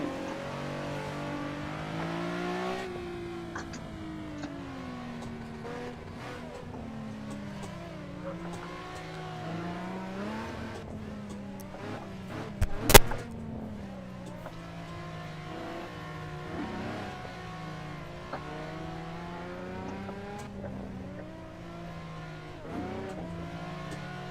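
Nissan 350Z cars tandem drifting at Klutch Kickers, engines revving and wavering steadily for over twenty seconds, a sharp loud burst midway, with tire noise and passing engine sweeps throughout.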